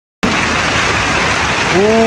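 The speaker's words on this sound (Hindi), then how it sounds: "बहुत तेज से बारिश हो रही है" Heavy rain pours down in Kashmir, a loud, dense, steady hiss that starts abruptly and fills the whole stretch, with a brief tonal sound rising above it near the end.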